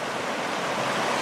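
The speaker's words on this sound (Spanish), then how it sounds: "este es un río, un bonito lugar que estamos" Rushing water of a river, a steady broadband wash with no pauses or distinct splashes, loud and close throughout with no voices.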